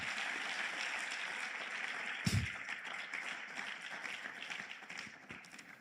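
Audience at a university special lecture claps for Professor Ubong Umo, a moderate sustained patter of applause with one sharp knock partway through, gradually thinning toward the end.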